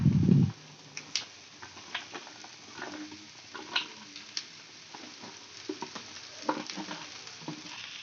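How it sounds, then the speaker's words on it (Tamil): Chopped okra is stir-fried with onion and garlic in a pan, giving soft sizzling under repeated close scraping and tapping stirring strokes, with a brief low thump at the start and no talk. "வெங்காயம் ஓரளவுக்கு நல்லா வதங்கின உடனே கட் பண்ணி வச்சிருக்க வெண்டைக்காவை சேர்த்துக்குங்க."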